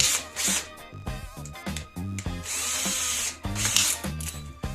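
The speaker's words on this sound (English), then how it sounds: "use the nail as the drill bit to run the pilot hole" A power drill whirs in short bursts and longer runs, close and loud, with a clipped finish nail as the bit boring pilot holes into Brazilian cherry hardwood.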